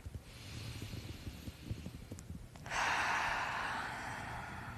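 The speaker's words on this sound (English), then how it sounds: "Breathe in deep." A deep breath drawn in during a guided progressive relaxation exercise, a soft airy inhale that swells after a quieter stretch and holds steady, close and alone with no talking.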